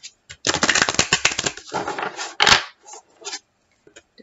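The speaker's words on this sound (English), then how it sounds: "we'll give the deck one more shuffle." A tarot card deck being shuffled by hand: a dense run of riffling, rapid papery card flicks and taps, fairly close and alone, tapering off into a few scattered soft taps.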